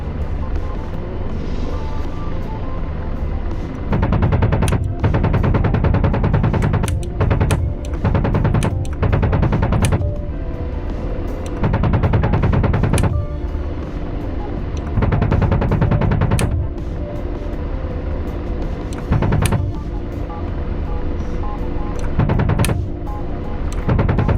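Sustained rapid gunfire from an artillery piece's mounted gun in a combat video game, loud and continuous, with repeated sharper shots punching through a heavy rumbling bed.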